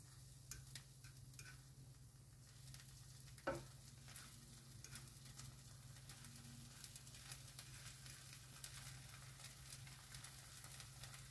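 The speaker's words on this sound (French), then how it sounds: "Entendez, ça grésille" Steady, quiet sizzling of an oat bran galette frying in a pan, a constant crackle with a single sharp clink partway through.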